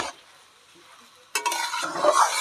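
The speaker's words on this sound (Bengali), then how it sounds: "এবারে আমি নেড়ে নেবো ভালো করে চালের সঙ্গে মশলাটা ভালো করে" Raw rice stirred with spices for chana dal khichdi in a village kitchen. A near-silent start gives way to a sudden burst of close, dry scraping and rustling as the grains are turned over.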